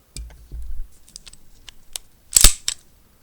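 Slide of an EAA Witness Steel Compact pistol worked during a safety check, a few light mechanical clicks and rattles leading to one loud, sharp metallic clack, close up and with no voice.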